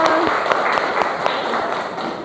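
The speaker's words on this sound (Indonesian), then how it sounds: "Oke, tepuk tangan buat kalian." Children clapping their hands together in a classroom, a loud, close, rapid and fairly even patter of claps with a brief voice at the very start.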